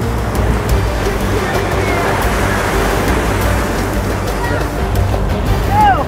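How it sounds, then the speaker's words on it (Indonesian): Strong, high ocean waves surge and break along a seaweed-gathering shore at Way Haru, Indonesia, in a steady, loud wash of surf with no break in the roar. "Ombaknya terkadang kencang, bahkan tinggi."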